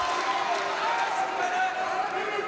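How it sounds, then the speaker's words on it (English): Crowd in a boxing hall swelling into a steady, dense roar of voices and cheering, sustained and moderately loud throughout. "The hall gets loud. You can feel the vibration from the crowd."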